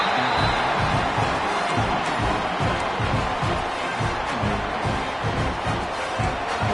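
Stadium crowd in a college football video game, a dense continuous roar of cheering at steady high level with rhythmic pulsing, no clear single voices standing out.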